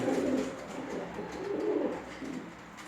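Red-feathered gevşane breed pigeon cooing close by, low soft throaty coos rising and falling in a few swells.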